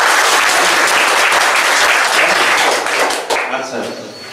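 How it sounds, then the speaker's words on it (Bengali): A room of students preparing for the Bangladesh Army exam bursts into loud, sustained applause, many hands clapping at once, thinning out toward the end. "ওর খুশিতে আমরা সবাই একটা জোরে করতালি"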